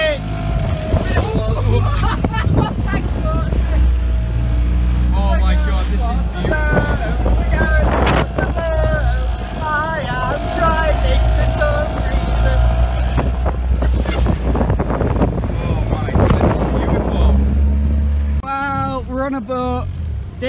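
Rented motorboat engine drones steadily under heavy wind buffeting the microphone off Hvar, with people talking loudly over the noise throughout.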